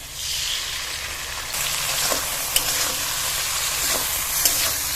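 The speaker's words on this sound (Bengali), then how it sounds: "2 মিনিট কষিয়ে নেব" Oil sizzles steadily in a pan as a tomato, green chili and ginger paste with salt and turmeric is sautéed, with occasional sharp scrapes of a spatula stirring through the loud frying.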